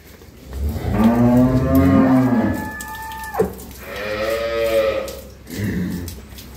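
A dairy cow on her first calving, two to four teeth old, moos at a farm in Dinajpur with a long, loud, tonal low call, then a second, shorter moo follows, close by with no talk.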